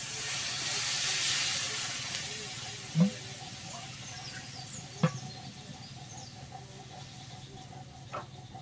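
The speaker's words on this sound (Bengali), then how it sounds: "এবার তরকারিতে জল দিয়ে দেবো" Water poured into a curry in a hot pan sets off a steady steam hiss that fades slowly, with a few faint clinks of a utensil against the pan.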